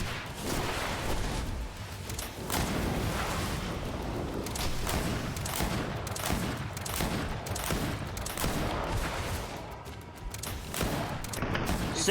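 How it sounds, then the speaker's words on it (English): Sustained gunfire from the video game Greedfall, a dense fusillade of shots and thumping blasts running loud and continuous throughout with no pauses. "I didn't want to use my gun, but I have to."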